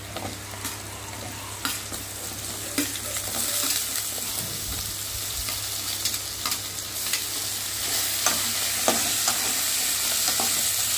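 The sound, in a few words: potatoes and onions frying in pan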